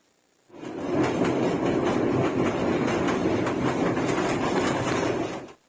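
A passenger train on the Feni to Sylhet route rolls along the tracks, a loud steady rumble with rhythmic clickety-clack of wheels rising in after a brief quiet start and running throughout, no speech.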